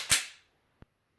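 During a pistol emergency reload from slide lock, a sharp metallic snap sounds close by, most likely the slide slamming forward, and it fades over a fraction of a second. A smaller click follows shortly after, with no talking.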